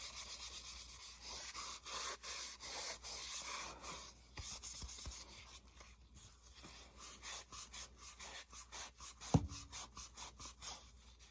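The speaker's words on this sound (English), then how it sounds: "You just want to sand it enough so that that paint has somewhere to micro bond" Hand sanding scuffs a painted car panel with steady rhythmic back-and-forth rubbing strokes, fairly quiet and close, with one sharp knock near the end.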